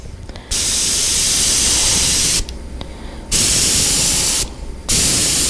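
Aerosol paint sprayed in a light dusting over a fishing lure, three steady hissing bursts of a couple of seconds each, separated by short pauses.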